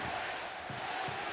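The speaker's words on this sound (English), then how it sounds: "CBJ chant here at Nationwide Arena." Hockey crowd at Nationwide Arena in Columbus chanting for the Blue Jackets during a game against Detroit; a distant, rhythmic chant swells in a few pulses over steady arena murmur.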